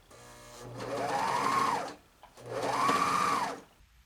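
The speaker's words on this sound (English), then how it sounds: "Lower the presser foot and serge with the back of the garment towards the feed dogs" A serger stitches a T-shirt seam in two steady whirring runs of about a second and a half each, with a short pause between them.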